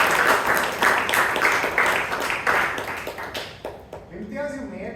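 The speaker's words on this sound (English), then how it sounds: "Can we have a round of applause, please?" A round of applause at a Toastmasters club meeting in Bangalore, moderate clapping from a room of people that thins out and fades after a few seconds.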